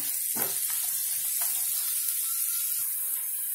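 Onions, green chillies and curry leaves sautéing in a pan for beetroot poriyal give a steady close hiss and sizzle, with a brief stir or scrape early on and no talking.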